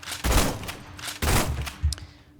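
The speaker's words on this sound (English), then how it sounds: "So with Jaeger stance, you can fire bullets," Bullets are fired in Jaeger stance in a Roblox battlegrounds game, coming as three close, punchy bursts of rapid gunfire with short gaps between them; no voices.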